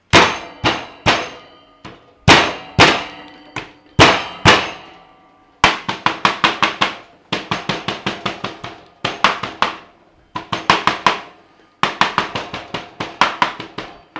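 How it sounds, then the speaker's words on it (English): The back of a knife smacks coriander roots on a board for Thai chicken rice, making loud, sharp repeated thwacks in quick clusters that keep going throughout. "we're just going to give it a smacking with the back of the knife"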